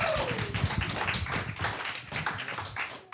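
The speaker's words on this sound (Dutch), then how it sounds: "Dus geef ze een groot applaus, David en Jantijn van der Herman" An audience applauds two guests at a live Broadway-themed show on Texel, uneven clapping with scattered sharp claps and some murmur, moderately loud and close.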